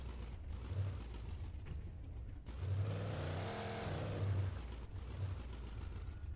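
A car driven in the video game Alan Wake Remastered gives a low, faint engine hum that swells into a revving surge midway and then settles back to a steady drone.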